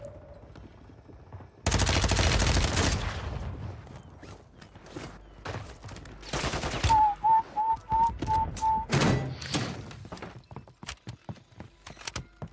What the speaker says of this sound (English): Why wouldn't you shoot the dude shooting at your face?